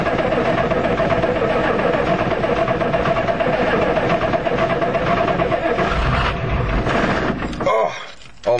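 A Ford diesel truck's engine cranks and runs loud and rough at close range in a forest on a cold start, a steady heavy rumble that drops away near the end before picking up again.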